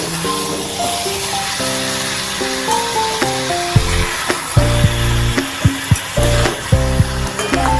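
Jackfruit curry with Kashmiri chili powder frying and being stirred in a pan, a steady close sizzle with scraping stirs and soft knocks that grow busier toward the end, over a faint tonal background.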